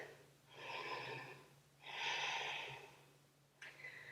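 A yoga practitioner breathes audibly while holding a low squat pose, with two long airy breaths and a shorter third one starting near the end, fairly close and with no talking.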